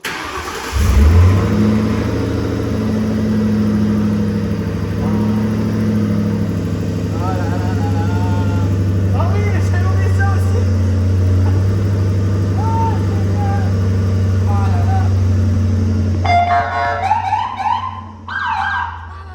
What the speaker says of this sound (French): est-ce que je peux faire un plaisir de la démarrer? Ça fait 50 ans que j'attends de la démarrer. Et de entendre mon V8.